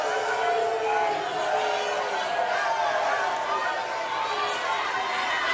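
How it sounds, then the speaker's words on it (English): Softball fans at a 2015 NCAA game between Oklahoma and LSU boo in a sustained, roaring crowd murmur that fills the stadium, while a commentator talks over it. "The fans don't like it. They're booing."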